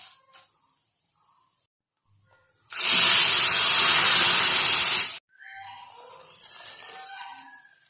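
Milk poured into a pan of frying vermicelli for a sweet sewai dish sets off one loud, sharp sizzling hiss lasting a couple of seconds, then it settles to a softer bubbling simmer.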